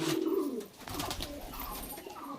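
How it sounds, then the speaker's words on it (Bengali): A female pigeon in a loft gives a short throaty coo near the start, then quieter rustling and soft background sounds follow. "এটা মাদি পায়রা।"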